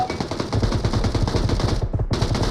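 Rapid, loud automatic gunfire from PUBG rattles in close, continuous bursts with a brief break near the end, with no talking over it.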